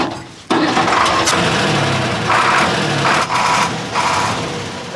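A truck engine cranks and catches, then settles into a loud, continuous rumbling idle with slight surges, heard up close.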